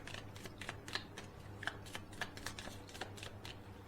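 Tarot cards are shuffled and handled in a quick run of crisp riffling flicks at close range, fairly quiet and without talk.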